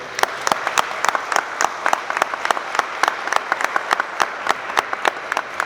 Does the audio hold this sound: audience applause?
yes